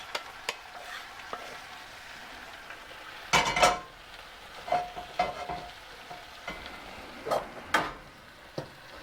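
Fajita meat frying in a pan with sauce and spices, a soft steady sizzle under repeated clinks and scrapes of a utensil stirring against the pan, close and fairly quiet.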